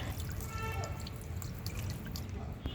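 A small solar-powered garden fountain, the heavier high-output model, pumps water that splashes and drips steadily at close range, a continuous gentle patter with a faint voice in the background.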